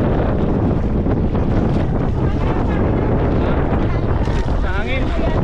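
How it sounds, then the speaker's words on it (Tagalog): Strong sea waves and heavy wind buffet a boat in one continuous loud roar of rushing water and microphone wind noise, with voices faintly mixed in. "Pero malakas ang alon."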